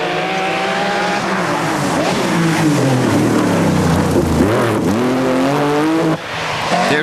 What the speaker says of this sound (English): Coleman with the Porsche leads them through the first of 21 stages.